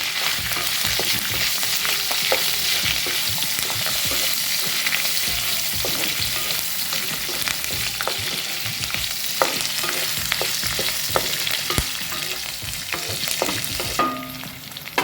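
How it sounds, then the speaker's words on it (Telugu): Green chilies frying in oil in a pan for egg masala curry, a loud, dense continuous sizzle with occasional spatula scrapes, close and unbroken throughout. "ఈ మిరపకాయలు కాస్త ఫ్రై అయ్యి"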